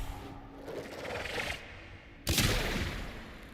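Gunshot in Warframe fired at an enemy's head: a sharp loud blast hits near the two-second mark after a stretch of whirring, buzzing weapon and ambient game noise, with no talk over it.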